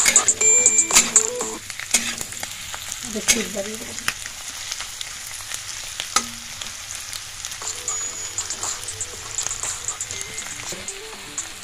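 Capsicum, carrot and onion stir-fry in a hot pan for chilli chicken, a steady close sizzle with scraping stirs and clinks of a utensil throughout, no talking.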